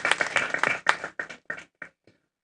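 A workshop audience in a hotel gives a short round of applause, several loud claps that thin out and fade into a few scattered final claps, with no talk over them.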